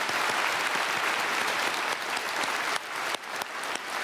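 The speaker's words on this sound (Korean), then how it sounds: "성가대와 함께 우리 김요한 집사님 박수하겠습니다." A church congregation at a Sunday service claps for a deacon and the choir, a dense, steady ovation that thins slightly toward the end.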